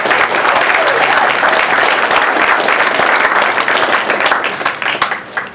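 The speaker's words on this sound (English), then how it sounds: "Please give them a big round of applause." A convention audience at BotCon 2004 applauds the guests of a writers and directors panel, loud, dense clapping from a large crowd that holds steady throughout and tapers slightly at the end.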